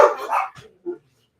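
Dogs barking excitedly at home: a couple of quick, loud yapping barks followed by a softer whimpering yip, close by and without talk.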